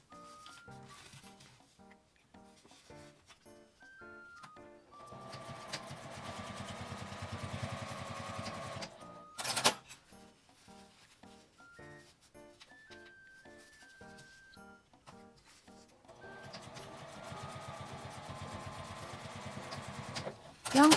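A sewing machine stitches the seams of a small fabric box pouch in rapid mechanical bursts, starting and stopping in several runs separated by brief pauses and handling noises, close and clear.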